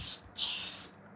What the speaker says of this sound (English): I'm gonna spray this again